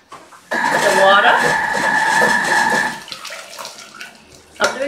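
Water pours into a Thermomix TM6 mixing bowl holding potatoes in a loud, steady rush lasting about two and a half seconds, then drops to faint trickles and small kitchen sounds.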